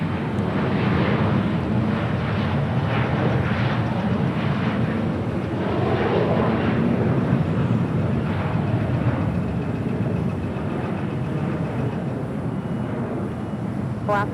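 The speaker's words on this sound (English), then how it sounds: "American Airlines Flight 1275 coming in from Washington Reagan. A321neo next arrival on 25 left." An American Airlines Airbus A321neo arriving on runway 25L at Los Angeles International Airport, a steady loud jet roar with wind buffeting that holds for the whole stretch and eases slightly near the end.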